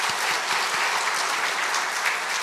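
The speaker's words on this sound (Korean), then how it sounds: "일어서 주시면 저희들이 박수로 환영하겠습니다" Congregation applauding at a Sunday church service to welcome new families, a steady dense clapping from a full room that carries on evenly throughout without any voices.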